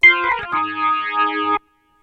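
A short electronic organ phrase with heavy effects, a wobbling, chorused chord line that holds for about a second and a half, then cuts off.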